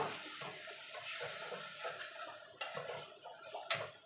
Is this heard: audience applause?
no